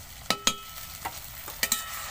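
Fried onion with ginger, garlic and green chilli paste sizzles lightly in a pan, broken by several quick, sharp spatula scrapes in pairs.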